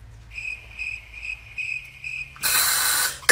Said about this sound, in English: why somebody let a cricket in here?